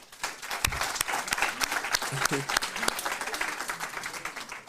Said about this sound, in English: Can we please give a round of applause to Yai?